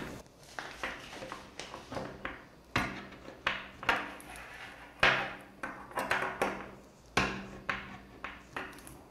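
A can of cream being punched twice from the top, likely with a metal tool, giving a run of sharp metallic knocks and taps in irregular clusters, close and fairly loud, with no talking.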